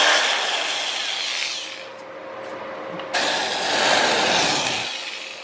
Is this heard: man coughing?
no